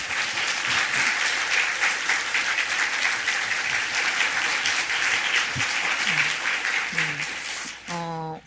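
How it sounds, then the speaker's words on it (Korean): A Korean church congregation at a Sunday service gives a guest speaker a big welcoming round of applause, dense steady clapping for about eight seconds before a voice begins speaking at the end. "우리가 할 수 있는 가장 큰 박수로 우리 소장님 환영하실까요?"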